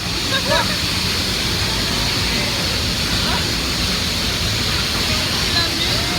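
Cavinti Falls roars as a steady, dense wash of falling water heard from right below the falls, loud and constant, with faint voices in the background.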